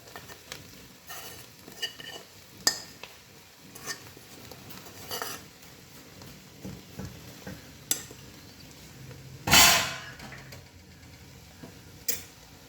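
Tapioca being stirred in a pot with ground spice paste and mashed yam for a Kerala kappa puzhukku, giving scattered soft scrapes and clinks with one louder scraping burst near the end, close and moderately quiet, without talk.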